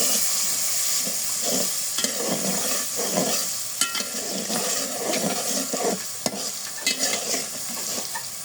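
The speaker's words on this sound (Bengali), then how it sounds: "পেঁয়াজটা ভেজে নিয়েছি, নিয়ে মশলা দিয়ে দিলাম হলুদ, মরিচ, ধনিয়া" Fried onions in a pan with turmeric, chili and coriander added, steady close sizzling with stirring and scraping throughout.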